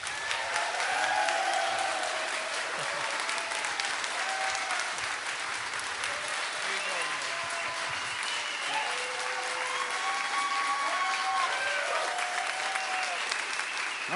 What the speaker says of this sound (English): So ladies and gentlemen, a big, big cheer for the hero himself, Scott Horton.